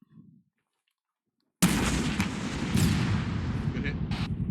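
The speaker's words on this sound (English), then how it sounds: "Back blast clear. Rocket." A rocket launcher fires in a military shooter game: one sharp, loud blast after a brief quiet, followed by a sustained rumbling roar and a few crackling pops as it trails off.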